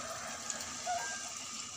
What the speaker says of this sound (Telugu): కారం వేసి 5 minutes ఉడికించిన తర్వాత వాటర్ యాడ్ చేద్దామండి.